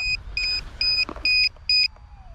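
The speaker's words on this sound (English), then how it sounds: "My lipo checking alarm's going off." An electronic LiPo battery checker for an Arrma Kraton 6s V5 EXB radio-control car beeps its alarm in five short, evenly spaced, shrill tones, close and loud, with faint background noise between them.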